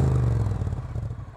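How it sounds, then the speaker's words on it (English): A Triumph Street Cup Bonneville motorcycle on its stock exhaust pipes gives a loud, steady, deep engine rumble, close and continuous, with a slight clattering pulse throughout. "these are stock pipes, and I gotta tell you, it's probably the loudest stock Bonneville I've ever heard"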